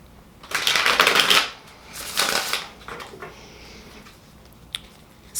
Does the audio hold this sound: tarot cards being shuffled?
yes